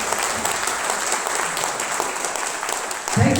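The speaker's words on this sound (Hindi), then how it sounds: "इनके लिए एक बार जोरदार तालियां।" An audience claps continuously and loudly in a hall in honour of an honoree, a dense crowd applause that swells slightly near the end.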